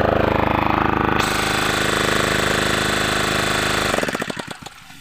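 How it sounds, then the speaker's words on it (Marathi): Water pump engine on a farm running with a loud, rapid chugging beat, then switched off, its pulses slowing and fading into quiet. "पाण्याचा पंप बंद करूया."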